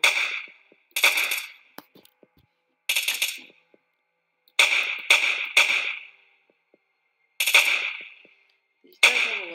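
Repeated gunfire in the 13 Days After survival video game: sharp, loud single shots and short bursts spaced by brief silences, each with a quick decaying tail.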